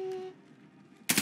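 A flashbang goes off in Call of Duty: Modern Warfare, a sudden loud broadband burst near the end that follows about a second of quiet, low game ambience.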